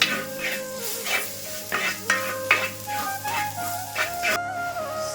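Chicken with masala is stirred in a hot pan for a Kerala-style chicken roast, with close scraping strokes of the spoon over a steady sizzle and no talk.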